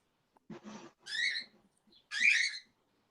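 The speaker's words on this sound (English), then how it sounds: "Wonder what those birds are talking about." Birds outside give a few short chirpy calls in separate bursts, faint and close to silence, without any talk.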